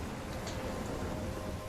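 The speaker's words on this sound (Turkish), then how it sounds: "Fırtınanın içinde mi sıkışıp kaldım?" Steady storm rain from the video game Life is Strange, a dense broadband wash with a low rumbling undertone of thunder, continuous and even throughout the short stretch.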